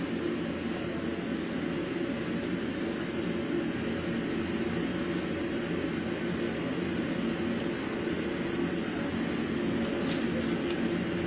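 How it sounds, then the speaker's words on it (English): White noise played in a courtroom to mask a discussion at the bench, a steady broadband hiss that holds even and constant throughout with no voices audible over it. "The white noise you're hearing is what's playing in the courtroom so that people can't hear the discussion."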